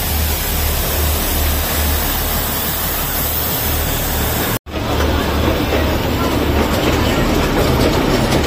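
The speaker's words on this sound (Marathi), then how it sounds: "ट्रेन आली आहे" The Matheran hill train passes close by on the mountain line, a loud, steady rumble and clatter of rail wheels that fills the whole stretch, broken by one brief cut near the middle.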